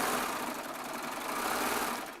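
A Baby Lock Triumph serger runs steadily, stitching fabric sets together with a fast, even mechanical whir and rattle that holds at a constant level for about two seconds, with no voices.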